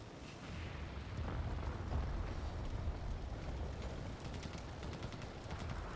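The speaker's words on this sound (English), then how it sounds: "Oh, okay, we're starting to get hits in. Some of those so far are ricochets." Tank shells striking and ricocheting in the Combat Mission: Barbarossa to Berlin wargame, a faint, distant rumble of muffled impacts and bursts running continuously, with several sharper crackling pops toward the end.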